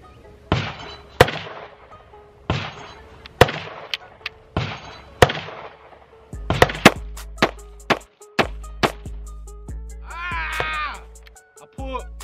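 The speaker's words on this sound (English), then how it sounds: "So here we go, five more shots." Gunshots at shooting practice with a pistol: a series of sharp, loud single reports at irregular intervals, some close together, with a steady low rumble from about halfway through and a person speaking briefly near the end.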